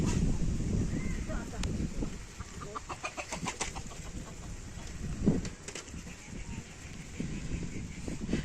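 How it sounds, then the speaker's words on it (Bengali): Chickens cluck and cackle in short bursts at a moderate distance in a quiet rural field with trees and a pond, over outdoor background noise, with brief voices in between. "এখানে মুরগি"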